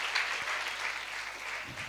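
Congregation clapping together during a Sunday church service at Calvary Krupa Mandir, a dense, steady wash of applause from many hands lasting throughout, with no talk over it.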